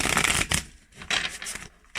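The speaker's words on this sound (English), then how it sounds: "I'm just going to shuffle the deck." Crisp riffling bursts of a deck of cards being shuffled, several quick rounds in a row, close and clear with no talking.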